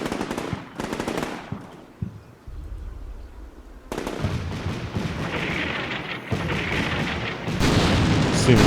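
A US Marine simulator video game gives loud, sustained suppressing fire: rapid automatic bursts layered with heavy booming explosions, rumbling on continuously and building in intensity toward the end.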